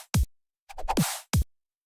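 A sparse drum loop built with a whip-effect sample from Splice and panning effects: sharp isolated hits separated by silence, with a short burst of clustered hits and a noisy crack in the middle, heard alone.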